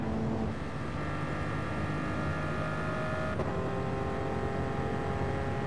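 A Pagani Huayra race car engine accelerates in a video game, a steady, loud drone whose pitch climbs with a gear shift partway through, continuous and without talk.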